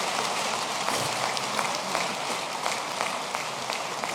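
Steady, dense applause from an audience at a 2024 speech by Alassane Ouattara in Côte d'Ivoire, filling the whole stretch with many overlapping claps at an even, moderate level.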